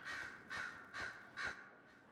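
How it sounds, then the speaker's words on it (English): Four loud, close crow caws in a steady rhythm, each a harsh burst about half a second apart, from the game Dragon Age: Inquisition. "Oh, those crows are so loud."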